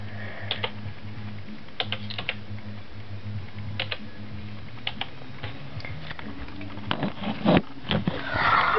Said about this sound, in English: I'm just typing my stuff.